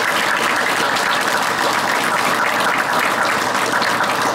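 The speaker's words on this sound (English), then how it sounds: "please join me in a round of applause for the station" An audience applauds a station crew at a change of command ceremony, with steady, dense clapping that holds at an even level throughout, with no voices over it.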